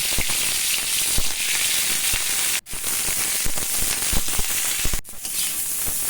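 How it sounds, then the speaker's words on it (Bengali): Cauliflower florets frying in hot oil in a wok: a loud, dense, close sizzle full of crackling pops that runs almost without a break, cut by two brief near-silent gaps, with no voices. "তেল আমার গরম হয়ে গেছে তেলের মধ্যে এবার ফুলকপিগুলো হালকা করে ভেজে নেব"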